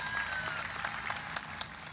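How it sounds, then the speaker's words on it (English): Graduation ceremony audience at a 2021 military institute applauds, a steady, moderately loud mass of clapping with a few sharper individual claps popping through. "Please give him a round of applause."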